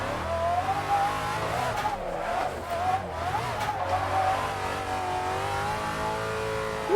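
A widebody Rocket Bunny Nissan 350Z with a V8 swap, set up as a drift car, revs hard with a steady loud engine drone while its tires squeal and skid continuously.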